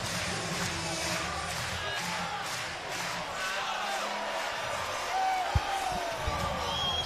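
Big ballpark crowd at Swayze Field during an NCAA baseball game between Arkansas and Ole Miss, a steady roar of cheering after a solo home run, with shouts and a couple of sharp thumps near the end.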